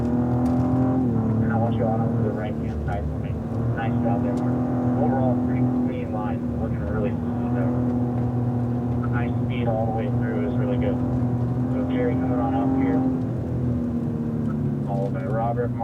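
Cadillac ATS-V engine droning steadily from inside the car during a race track session, a continuous loud hum that shifts pitch with gear and throttle changes, while an instructor talks over it.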